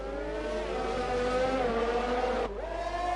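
Formula 1 race cars scream down the Abu Dhabi straight in a PS4 sprint race, steady high-pitched engine harmonics sustained loudly for about two and a half seconds before an abrupt downshift drops the pitch, then the whine resumes.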